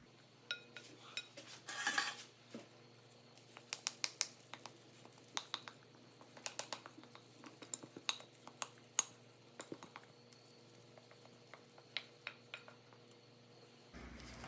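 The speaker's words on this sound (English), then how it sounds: "put the dough in the pan" Beer bread dough for a peanut butter milk stout loaf being put into a greased pan: quiet, scattered clinks and taps of utensils against the pan with soft sticky squishes, spread irregularly across about fourteen seconds.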